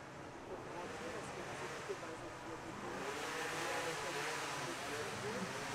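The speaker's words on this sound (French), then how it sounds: "J'ai eu le scooter qui est passé" A scooter passes by outside during a panel discussion on arts and culture, its engine rising into a broad, steady rumble midway through while people keep talking over it.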